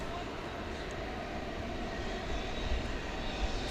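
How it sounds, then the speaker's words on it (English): A UPS Boeing 767 pushes back at DFW Airport at night, engines giving a steady, fairly distant rumbling whine that swells slightly toward the end. "Got a UPS 767 backing out now."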